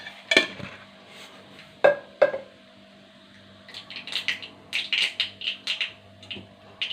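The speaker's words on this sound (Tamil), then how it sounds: "கடுகு பொரியுது" Mustard seeds splutter in hot oil in a pan while okra and coconut poriyal is being made. After a few isolated clicks, sharp, irregular pops and crackles become busier, close and fairly loud with no talking.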